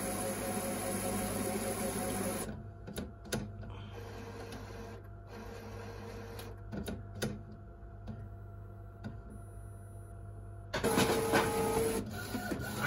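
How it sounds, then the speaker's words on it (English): A Sawgrass dye sublimation printer at work, with a loud mechanical burst at the start, then quieter ticks and clicks of the print head moving, and a louder run of motor noise near the end. "So now it's printing."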